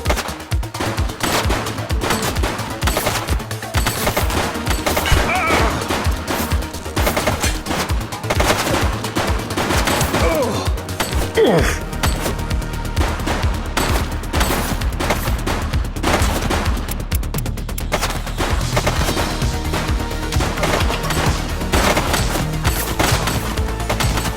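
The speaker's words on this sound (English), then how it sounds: "Shots fired!" Sustained heavy gunfire in the police video game The Precinct, loud machine-gun bursts and rapid shots rattling almost nonstop, with a dense low rumble taking over in the second half.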